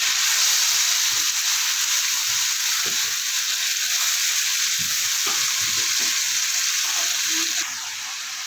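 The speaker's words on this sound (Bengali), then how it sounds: "এবার দিয়ে দেবো এর মধ্যে পেঁয়াজ কুচিটা" Chopped onion frying in oil with mustard seeds, a steady hissing sizzle with scattered scraping and clicking of a spoon stirring the pan, close by and without talk.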